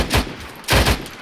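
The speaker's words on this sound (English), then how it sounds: "Keep suppressing fire to the north." Suppressing gunfire in the Arma 3 combat game: two loud, close bursts of rapid automatic fire, each lasting a fraction of a second, separated by a short gap.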